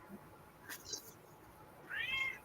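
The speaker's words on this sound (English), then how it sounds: "Oh, that's a kitty." Pet cat giving a soft, short meow near the end of a quiet indoor scene, heard close but faint, with a few small rustles before it.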